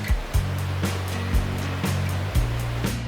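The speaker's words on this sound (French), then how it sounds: "Un ruisseau mais qui coule à moitié en petite piscine naturelle" A shallow mountain stream near the Passo di Spino above Lake Garda in Italy spills into small natural pools, giving a steady watery wash broken by recurring soft low thumps.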